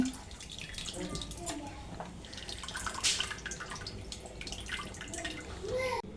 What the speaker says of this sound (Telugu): పప్పులో పులుసు పోసుకుంటున్నాను సాంబార్ కోసం